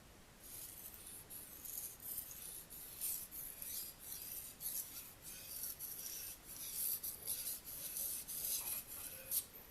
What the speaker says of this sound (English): I'm not even sure if this is actually touching the stone, so I'm going to push down a little bit.